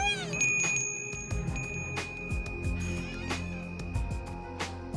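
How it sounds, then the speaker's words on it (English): A hanging bell in an animated fantasy setting is struck, giving a bright sustained ring that lingers and decays under rustling and other sound effects. "I guess we're supposed to ring this hanging bell."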